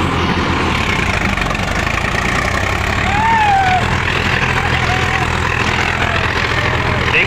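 A Mahindra DI 745 third-generation tractor engine runs with a loud, steady low rumble that swells briefly partway through, while a voice speaks faintly underneath.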